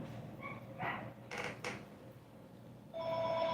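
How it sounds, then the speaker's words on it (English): A house phone rings indoors, quiet and somewhat distant, its electronic tone entering near the end after a few soft creaks and clicks in the room. "House phone. It's not important. Ringing now."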